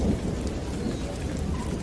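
Steady rain with a low rumble of thunder rolling underneath, continuous and moderately loud, a storm ambience set beneath a spoken story.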